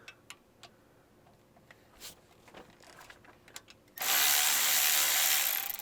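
Bolts being loosened on the axle of a K5 Blazer, heard as scattered close ticks and clicks of a ratchet before a loud, steady burst of tool noise takes over for the final seconds.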